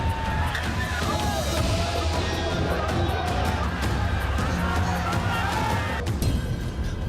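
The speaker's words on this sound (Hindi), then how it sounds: "खड़गपुर के रोड शो में उमड़ा जन सैलाब।" A dense crowd gathered at Amit Shah's road show in Kharagpur, West Bengal, a continuous roar of mixed voices and chatter with occasional sharper shouts and background street noise, steady and loud throughout.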